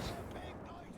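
A grenade blast in the shooter game Wolfenstein: The Old Blood, heard as a single heavy, rumbling boom that fades out, with a voice speaking over it.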